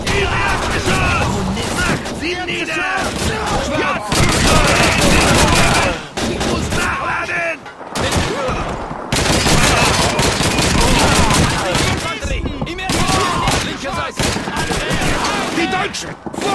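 Sustained gunfire from the video game Call of Duty 2 keeps rattling in dense automatic bursts and single shots, loud and continuous with brief lulls.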